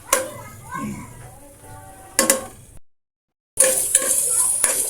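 Meat sautéing in its own rendered fat in a pan for soup, a steady close sizzle with stirring scrapes and clatter, briefly cut to silence, while someone talks over it.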